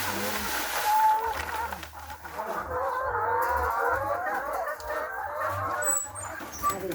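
A flock of chickens clucks busily nearby, scratching through rice-husk bedding with a constant rustling texture underneath, and a person speaks intermittently.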